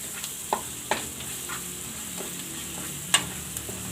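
A spoon stirs boiled rajma with salt and spices in a pan, with sparse scraping taps against the metal over a faint, quiet sizzle.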